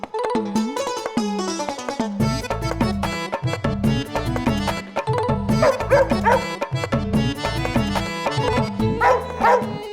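A dog named Jimmy barks and yips amid loud background music in a comedy drama scene, with bursts recurring throughout.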